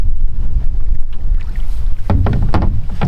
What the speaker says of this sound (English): really windy the last couple of days.